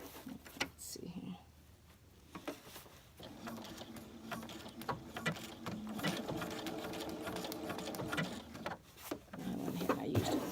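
A sewing machine runs in steady bursts of rapid mechanical stitching on a baby burp cloth, with a few brief pauses and soft handling clicks in between, close and fairly quiet, with occasional low murmured speech.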